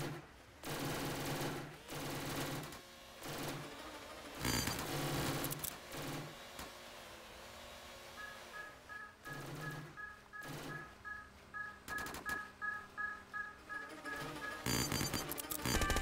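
Rapid bursts of gunfire ring out in the Roblox game SharkBite 2 as players shoot at a shark. The shots come in clustered volleys and a steady rattling run, with chiming game effects mixed in.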